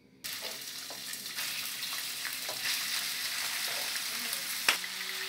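Minced venison hits hot melted lard and sizzles steadily, a bright crackling fry that starts abruptly and holds for several seconds with occasional stirring scrapes and one sharper pop near the end.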